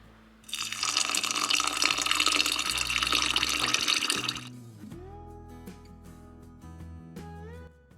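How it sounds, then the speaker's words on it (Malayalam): Boiled and cooled water is poured into a homemade orange wine mixture as a loud, continuous splashing stream for about four seconds, then trails off into faint drips and quiet tones. "ഇനി നമ്മൾ തിളപ്പിച്ച് ആറ്റി വെച്ച വെള്ളം കൂടെ ഒഴിച്ചു കൊടുക്കാം."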